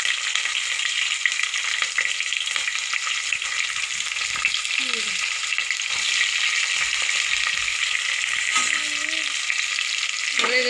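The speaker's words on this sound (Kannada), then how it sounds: "ಈಗ ಫಸ್ಟು ಮೆಣಸಿನ್ಕಾಯಿ ಉಳ್ಳಾಗಡ್ಡೆ ಹಾಕ್ತೀನಿ ರೀ." Green chillies and onions frying in hot oil alongside whole spices, a steady bright sizzle throughout with a few soft scrapes and taps of a spoon stirring the pan.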